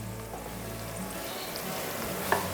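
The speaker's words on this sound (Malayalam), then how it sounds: "ഒരു ടീസ്പൂൺ മഞ്ഞൾപ്പൊടി അതുപോലെ തന്നെ മൂന്ന് ടീസ്പൂൺ കാശ്മീരി മുളക് പൊടി നമ്മൾ ഇട്ട് കൊടുക്കുന്നുണ്ട്" Turmeric and Kashmiri chili powder frying in oil for beetroot pickle, a soft, even sizzle close by with one brief utensil tap near the end.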